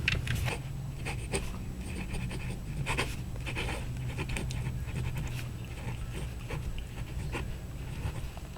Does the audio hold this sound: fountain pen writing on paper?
yes